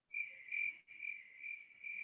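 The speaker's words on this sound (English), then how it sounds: "Crickets." A cricket sound effect plays in short repeated bursts of high, clear chirping with brief gaps between them, crisp and isolated against silence.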